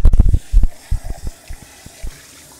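Running tap water rinsing out a dish in a kitchen sink after cooking mahi mahi steak, loud close splashing and gushing in uneven bursts that taper off, with no speech.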